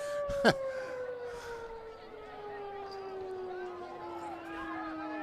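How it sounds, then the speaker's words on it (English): A long, steady siren wails and slowly falls in pitch at a high school boys soccer tournament game, heard from a distance over a murmuring crowd, with a brief sharp burst near the start. "I don't think that siren was for the goal"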